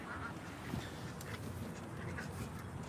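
Ducks at a community pond in Phoenix give scattered quacks and honks at low level among outdoor background noise.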